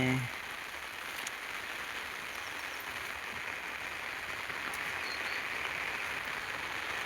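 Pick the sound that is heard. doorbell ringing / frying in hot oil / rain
rain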